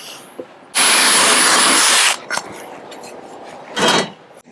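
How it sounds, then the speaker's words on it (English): A power drill whines loudly in a sustained burst of about a second and a half, drilling out rivets on a Land Rover 110, followed by a brief quieter noise and then a second short drilling burst. "what I'm going to do is actually drill all the rivets out"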